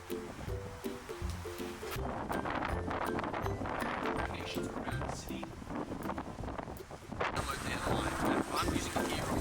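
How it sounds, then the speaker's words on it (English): Strong gusts buffet the microphone outdoors in Brisbane during a Lime electric scooter ride, a loud continuous rumble and roar persisting throughout, with brief speech and a tonal sound early on. "it's fucking windy"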